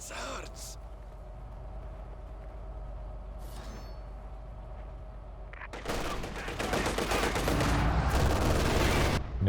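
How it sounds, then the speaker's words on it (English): Mortar fire from twin mortar pits in a Company of Heroes 2 two-versus-two match, a few muted thumps early, then a dense, loud barrage of overlapping blasts near the end, with a voice talking over it. "Double mortar pits getting to work there."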